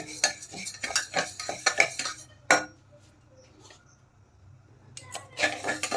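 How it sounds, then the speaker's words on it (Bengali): Biuli dal frying in a pressure cooker while a metal spoon stirs it, giving repeated close scraping and clinking strokes, then a sharp clank and a quieter pause before the stirring picks up again. "নেড়ে চেড়ে একটু ভালো করে ভেজে নেব"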